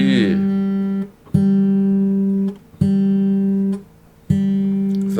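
An open G (third) guitar string is plucked four times in a slow, even rhythm, each note ringing clearly for about a second before the next.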